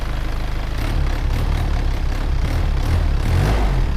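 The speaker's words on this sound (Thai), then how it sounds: "เดี๋ยวผมเร่งให้ดูนะครับเดี๋ยวเร่งฟังเสียงนะฮะ" A 2001 Isuzu Dragon Power pickup truck engine runs close by with a steady low rumble that swells slightly louder as it revs, without any voices.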